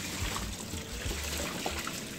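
Loose peat poured into a large terrarium gives a faint, steady soft trickling rush with small thumps, close but quiet, and no talk.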